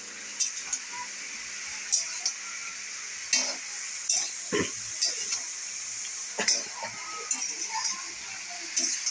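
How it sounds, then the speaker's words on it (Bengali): Sugar is stirred into a cooking mixture in a pot, giving repeated close scraping and clinking strokes over a soft sizzle, with no one talking. "এবার চিনিটা দিয়ে ভালো করে নাড়িয়ে নিলাম"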